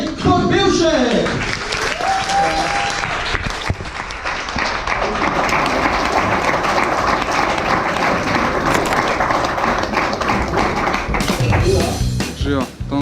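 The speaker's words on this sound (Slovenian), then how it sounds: "Dajmo mu en velik aplavz" An audience applauds a performer taking the stage at a club show, a sustained loud wash of clapping and cheering that lasts throughout, with voices calling out over it.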